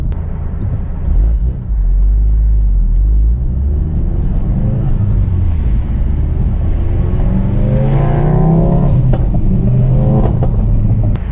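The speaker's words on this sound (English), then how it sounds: "I kind of want to do launch control." A car engine revs and accelerates hard on a launch control start, its exhaust rattling from a loose valve, a loud close roar rising in pitch through several gear climbs.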